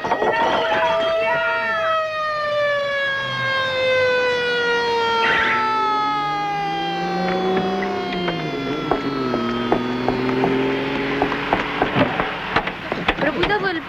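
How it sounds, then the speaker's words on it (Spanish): An ambulance siren wails loudly and continuously in a rising and falling tone, with frantic voices shouting over it throughout. "¡Una ambulancia!"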